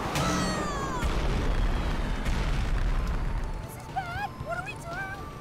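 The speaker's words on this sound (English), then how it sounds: "Oh, homing missiles" Cartoon explosions from homing missiles in an SMG4 Mario animation: a loud, rumbling blast sustained for a few seconds that then fades out, followed by squeaky voices and a person talking over it.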